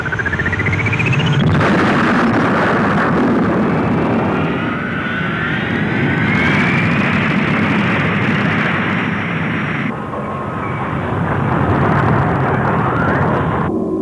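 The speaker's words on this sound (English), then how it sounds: "All hands prepare to blast off for planet Barnard." Cartoon spaceship Argo blasting off in an animated space series, a loud sustained roaring engine rumble with rising whine tones, continuous throughout without talk.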